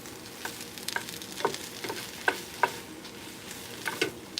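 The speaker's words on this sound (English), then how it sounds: "so now I'm going to just stir it around" Wilted spinach frying in fat in a pan, stirred around with a soft steady sizzle and a series of sharp scraping clicks from the utensil against the pan, close up with no voices.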